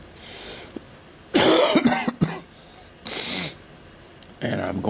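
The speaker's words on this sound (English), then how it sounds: "I really apologize for my coughing" Several harsh, forceful coughs come in short bursts separated by quiet pauses, close to the microphone.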